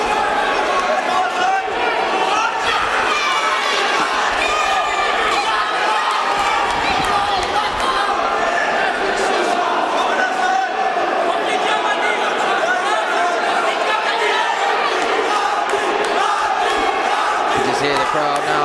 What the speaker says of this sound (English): Hear the crowd now.